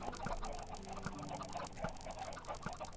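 Chickens in a Minecraft modpack game, Super Hostile Spellbound Caves II, cluck in short repeated calls at a steady pace over a soft ambient game background, with no talking.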